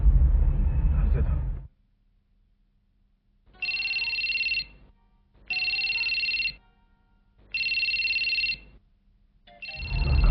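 Telephone rings in four evenly spaced electronic bursts of about a second each, separated by short silences, after a brief spell of loud noise and a pause.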